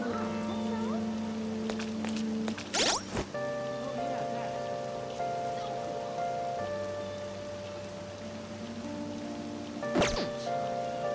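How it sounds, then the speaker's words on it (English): Rain pattering in Persona 5 Royal, a soft steady patter under sustained game music tones, with a couple of brief swooshing sounds cutting through. "This rain is so annoying."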